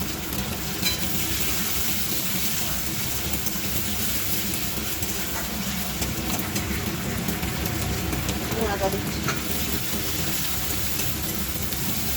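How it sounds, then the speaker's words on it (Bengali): Onion with ginger and tomato frying in a pan on a home stove, a loud dense continuous sizzle with a few stirring scrapes, and a low background rumble. "চলো পেঁয়াজটা ভাজা হোক"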